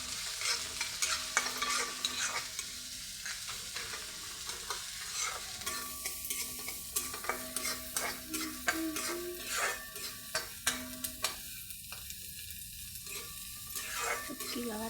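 Onion added to garlic and chili frying in a pan for a dry cluster bean dish, a soft sizzle under repeated scraping and stirring strokes that knock in an irregular rhythm.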